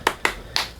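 Three sharp hand claps ring out alone, two quick ones close together and a third after a short pause, crisp and near.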